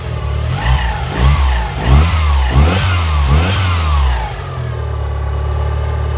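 An auction car engine is revved several times in quick succession, each blip rising and falling over a rough, slightly whiny idle, heard close from behind the car before settling back to a steady idle.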